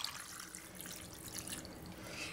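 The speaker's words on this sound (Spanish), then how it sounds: "Para ello las cubrimos con agua" Water is poured over clams in a bowl to soak them, heard as a faint, steady running pour with light splashy texture.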